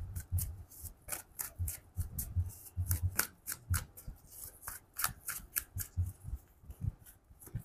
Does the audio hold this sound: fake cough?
no